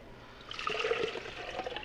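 Water and Knorr bouillon swish and trickle as a container is rinsed out in a kitchen while making beef and cabbage soup, a soft, continuous sloshing pour heard close with no talk.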